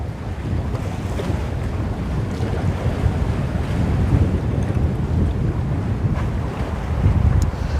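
Strong southwest wind and crashing waves during a storm at Busselton, Western Australia, a steady roar of gusts buffeting the microphone over rolling surf, loud and unbroken from start to finish.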